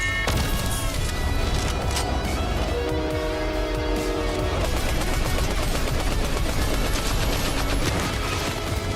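Rapid SMG fire in the video game Fortnite, a dense, continuous burst of loud clattering shots over game noise with no talk.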